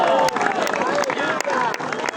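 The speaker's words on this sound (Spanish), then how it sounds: "Dele un aplauso al Señor con alegría." Church congregation at an evangelical service applauding together, a dense, loud wash of clapping mixed with voices and crowd noise, steady with a few sharper peaks across the short burst.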